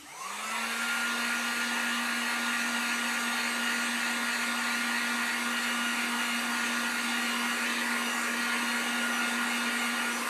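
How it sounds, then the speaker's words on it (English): Heat gun blowing hot air onto an acrylic-painted spring sign, a steady, loud whooshing hum with a constant motor whine that starts within the first second and runs unbroken to the end, with no voices. "This one is going to need just a little bit of help with the heat gun."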